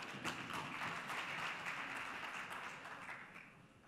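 An audience at a Karachi policy dialogue event applauds to welcome a speaker, a fairly faint, steady patter of clapping that tapers off toward the end.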